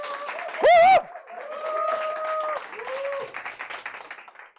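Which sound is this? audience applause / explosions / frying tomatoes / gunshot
audience applause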